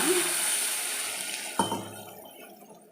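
Water is poured into a pot of spicy curry in a home kitchen, a steady liquid rush that stops abruptly with a small clink, leaving a faint settling trickle afterward.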